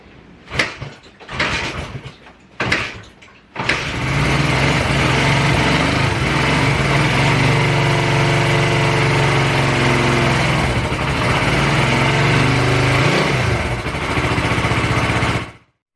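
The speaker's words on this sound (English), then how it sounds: "the bike now starts right away after I gave it some time to let some fuel drain back into the carburetors" A 1980 Honda CB125T motorcycle cranks in a few short bursts, then catches and settles into a steady, loud single-cylinder idle for about twelve seconds before cutting off abruptly.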